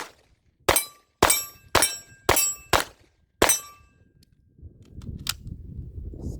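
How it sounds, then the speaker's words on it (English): Six sharp, loud gunshots from a Walther PDP Compact pistol fired close by at an uneven pace, each with a short ringing decay, followed by a quiet rustling handling noise. "This gun seems to kick a little bit more than I remember"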